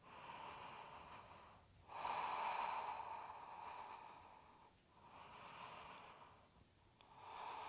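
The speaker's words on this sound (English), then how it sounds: "Breathe here." Slow, deep breathing during a yoga pose, close and soft, with long airy inhales and exhales rising and falling in an even rhythm.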